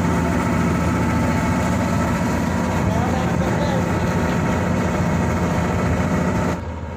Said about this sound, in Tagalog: may audio kayo naririnig dahil umaandar ang kanilang generator